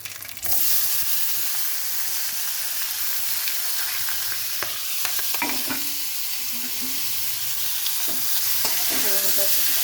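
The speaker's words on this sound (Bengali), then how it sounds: "এবারে এই সব সবজিগুলো ফোড়নের ওপর দিয়ে দিচ্ছি।" Chopped vegetables hit hot spiced oil tempering for a Bengali vegetable curry and are stirred, giving a loud, steady sizzle throughout with occasional scraping and clinking of the spoon against the pan.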